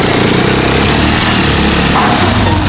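A Rusi Chariot 175 motorcycle engine fitted with a new piston and piston ring runs steadily close by, a loud, continuous, buzzing drone with a rough rattling edge and no pause, with no talking.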